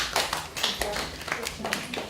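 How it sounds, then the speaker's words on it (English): A light, scattered patter of soft clapping from a small group, quiet and uneven, with voices murmuring underneath. "Can you give yourselves a quiet round of applause?"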